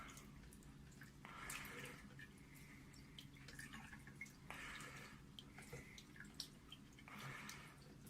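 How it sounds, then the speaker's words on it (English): Water is poured over a SkyWatcher 300P 12-inch telescope mirror sitting in a sink, coming as faint splashing bursts that swell and fade several times over a low background hum. "pouring water over it."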